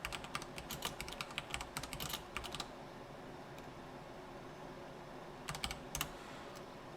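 Quick bursts of typing on a computer keyboard, close crisp key clicks in clusters with a long pause before a final short flurry, over a low room hum.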